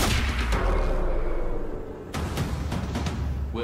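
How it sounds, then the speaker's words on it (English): Grenades explode in the Quantum Break video game: several loud booms and sharp blasts hit in quick succession over a dense, rumbling battle din. "These guys have so many fucking grenades."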